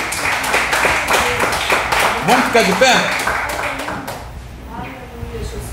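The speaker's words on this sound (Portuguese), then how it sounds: "Dá uma salva de palmas para o Senhor" A church congregation applauds during a Portuguese-language sermon, with dense clapping under a preacher's voice that dies away after about four seconds and leaves only his talk.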